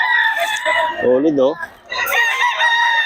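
Roosters crow loudly and close at a poultry sale, one long crow followed by another with clucking in between, and someone speaks briefly over the birds.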